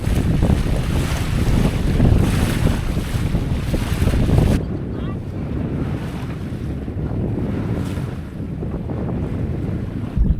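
A sailboat moving under wind near La Paz, with loud buffeting wind on the microphone and rushing water along the hull, which drops abruptly partway through to a softer steady wash of waves.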